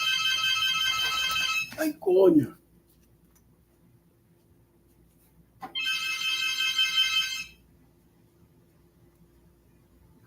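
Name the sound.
phone ringing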